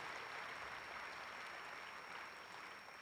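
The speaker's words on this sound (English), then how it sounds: "let's give a round of applause to Dr. Holtz" Faint, distant applause from a crowd at a volleyball banner unveiling, an even continuous patter of clapping held at low level for the whole span with no speech.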